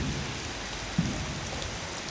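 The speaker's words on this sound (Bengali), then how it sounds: "এই রে কি জোরে বৃষ্টি পড়তেছে" Heavy rain pours down under sunshine at Rajshahi University, a dense, continuous hiss of drops striking surfaces nearby with one soft thump partway through.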